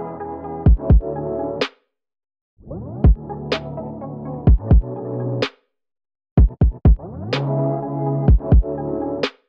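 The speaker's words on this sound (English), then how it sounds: "I'll add some speed up and slowdowns where I cut out the sample and it's gonna sound something like this." Sampled music chopped into segments, with tape-stop slowdowns and speed-ups of the sample produced in Logic Pro. Three loud bursts of music with drum hits are each separated by a short silence and bend in pitch at the cut points.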